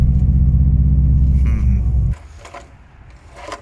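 A warm Subaru Impreza WRX engine idles with a loud, steady low rumble up close, then cuts off abruptly partway through, leaving quiet background hiss and faint knocks.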